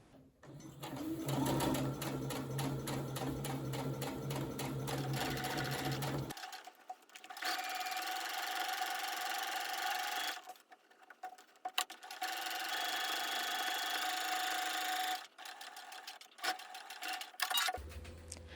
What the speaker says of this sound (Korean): 끝박음질로 쭉 재봉해 줄게요.